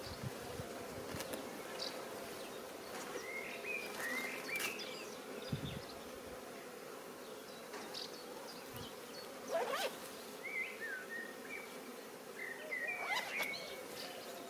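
A swarm of honeybees hums steadily as a beekeeper captures it outdoors, a dense even drone throughout, with occasional bird chirps above it.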